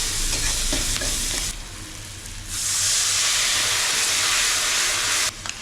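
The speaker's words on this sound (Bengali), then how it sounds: "তেলে কালো জিরে ফোড়ন দিয়ে এই ক্রাশড কাঁচা লঙ্কাগুলো দিয়ে দিলাম।" Crushed green chilies and turmeric hit hot oil tempered with nigella seeds, giving a loud, steady, close sizzle that surges into a fuller hiss midway before cutting off abruptly, with stirring and no talk.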